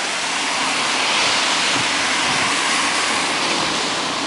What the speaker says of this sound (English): there's a lot of water there